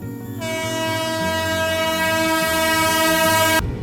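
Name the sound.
Ratnachal Express train overtaking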